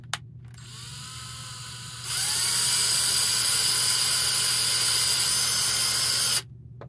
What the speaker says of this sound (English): When the drill goes through the bottom